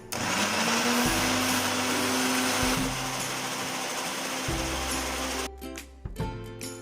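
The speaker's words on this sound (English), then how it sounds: "Blend well without adding water." A loud blender whirs continuously while pureeing ripe mango pieces with no water added, its motor pitch shifting in steps as the contents churn, then winds down and stops near the end.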